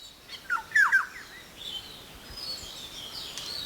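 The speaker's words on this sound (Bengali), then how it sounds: "সাধারণত যে হলদে পাখি আমাদের দেশে দেখা যায় সে এই কালো মাথা হলদে পাখি" A black-hooded oriole calls in the forest of Satchari, Sylhet, Bangladesh, giving a few clear, fluting whistled notes close by. Fainter, higher chirps and a quiet woodland background follow.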